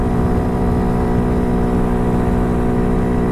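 Honda Hawk DLX dual-sport motorcycle with an upgraded sprocket and chain, its engine pulling hard around 65 mph: a loud, steady, close droning hum with tonal harmonics that holds without a break, no voices.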